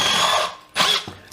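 A Milwaukee M12 FPD Gen2 cordless drill breaks through material in a short whirring burst that drops off, followed by a couple of brief mechanical clicks, heard close and without talk.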